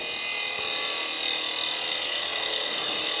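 A woodturning tool cutting wood on a lathe while turning a salt shaker, a steady, loud hissing shear with no breaks or voices.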